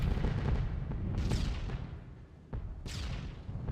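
Heavy booming bursts of flak over Essen go off again and again in a B-17 video game, sharp cracks over a low rumbling roar, exploding close around the aircraft.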